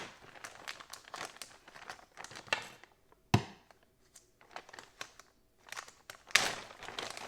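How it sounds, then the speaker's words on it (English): A plastic bag crinkles and rustles as it is handled up close, in irregular bursts with short pauses and a sharper tearing crunch or two, with no talk. "look, another plastic bag"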